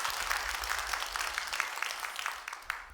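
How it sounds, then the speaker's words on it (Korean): A church congregation claps during a sermon: a moderate, fairly quiet patter of many hands that runs steadily, then thins out and fades at the end. "박수 한번 해줘요."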